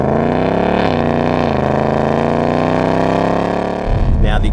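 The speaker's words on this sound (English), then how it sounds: "this car now has an active exhaust system" A 2018 Ford Mustang GT with an active exhaust holds a loud, close, droning engine note that dips slightly, then breaks into a deep, rough burble near the end.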